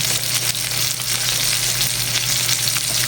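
Onion and garlic fry loudly in a hot pan for a Batangas-style dish, a dense continuous close sizzle with no voices over it.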